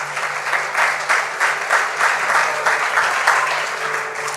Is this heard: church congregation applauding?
yes